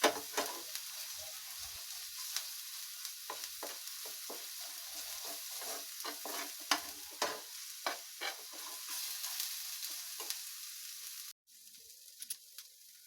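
Ginger garlic paste fries in a pan of oil, giving a steady soft sizzle broken by repeated stirring scrapes for several seconds, then a brief drop in sound near the end.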